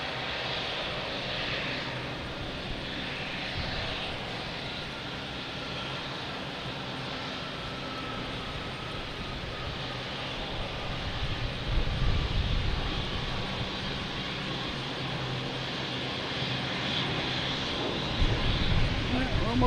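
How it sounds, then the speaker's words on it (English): Jet airliners taking off at Boston Logan Airport, a steady broadband engine roar at middle distance that swells slightly toward the end, with faint background noise throughout. "We can watch some of these planes take off."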